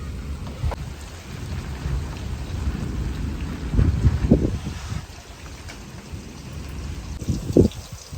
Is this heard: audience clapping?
no